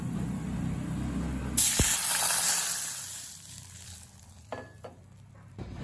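A cup of water hits hot dried red chilli and five-spice tempering in a pan for mango chutney, bursting into a loud sharp sizzle that hisses steadily, then fades into quieter bubbling with a few small clinks.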